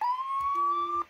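A Siren Head siren in the Brick Rigs video game blares as a loud, steady electronic tone rising slightly in pitch, with a second lower tone joining partway through, cutting off after about a second.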